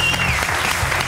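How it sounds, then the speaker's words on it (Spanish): Spontaneous audience applause follows a magician's card trick on a TV show, a loud, dense burst of many hands clapping at once, with a brief high whistle-like tone early on. "Ahí están los aplausos espontáneos."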